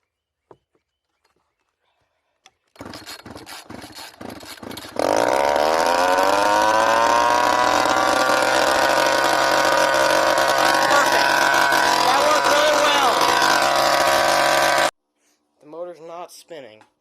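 A small weed eater engine, started without choke, catches and runs loud and steady for about ten seconds, with rough sputtering just before it settles into a sustained high whine, then cuts off abruptly.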